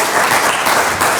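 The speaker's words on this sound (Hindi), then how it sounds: "तालियां हो जाए ज़रा।" An audience claps and applauds loudly and steadily throughout, a dense wash of hand claps from a crowd at a storytelling talk.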